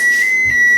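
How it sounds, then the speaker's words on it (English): A steady, high electronic tone sounds continuously and fairly loud, an oven timer going off while egg rolls bake, with no talking. "You can hear our oven, it's going off."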